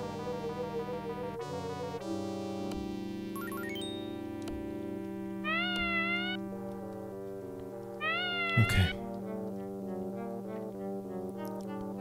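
Azrael the cat meows repeatedly in The Smurfs video game, several cartoonish wavering meows and yowls rising over steady game music, fairly loud and near.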